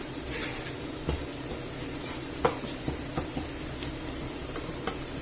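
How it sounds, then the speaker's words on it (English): Sauce being stirred in a frying pan, a soft steady sizzle with a few scrapes and light clinks of the utensil against the pan, close and fairly quiet. "And I'll give it a little stir."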